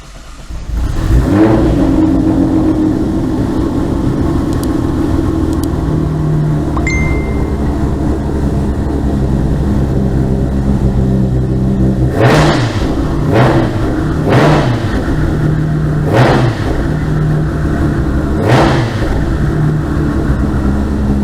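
A Nissan GT-R R35 roll-racing car's engine idles with a deep hum, then revs sharply several times in quick bursts, loud and close, each rev rising and falling.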